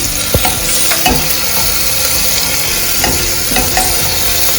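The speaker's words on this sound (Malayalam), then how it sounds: "അപ്പോൾ നമ്മൾ അരിഞ്ഞ് വെച്ചിരിക്കുന്ന സവാളയും പച്ചമുളകും ഇഞ്ചിയും വെളുത്തുള്ളിയും കൂടി ഇട്ട് കൊടുക്കാം" Chopped onion, green chili, ginger and garlic sizzle and fry loudly in a hot pan, a steady close crackle with occasional stirring scrapes and no talk.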